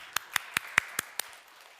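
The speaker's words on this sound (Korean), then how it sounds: "우리 박수 한번" Six sharp hand claps spaced evenly over about a second, then fading into quiet room tone, during a Korean church sermon.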